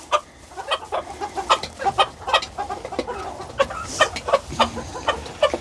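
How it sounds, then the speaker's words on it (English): A Polish rooster clucks in a busy, rhythmic string of short close calls, with other chickens around in a coop after a winter storm flood. "He's a Polish rooster."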